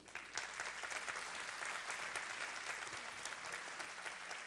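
Warm, sustained applause from a crowd at a documentary premiere press conference, a continuous bright patter of many hands clapping at an even level throughout.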